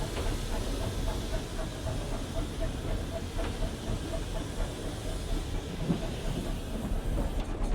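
A preserved branch line steam locomotive hauling unfitted freight trucks, with a continuous heavy rumble and hiss, faint rhythmic chuffing and rail clatter, heard close from on board and steady, with someone speaking over it.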